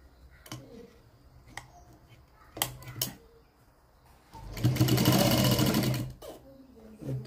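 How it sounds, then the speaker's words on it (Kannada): Sewing machine stitching the lining of a blouse: a few short clicks and taps, then one steady burst of stitching that runs for under two seconds, close and fairly loud, with nobody talking. "ಈಗ ಈ ಸೈಡಿಂದ ಒಂದು ಸ್ಟಿಚ್ ಹಾಕ್ಕೊಳ್ಳೋಣ."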